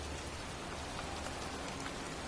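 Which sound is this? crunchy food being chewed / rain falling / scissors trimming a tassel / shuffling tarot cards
rain falling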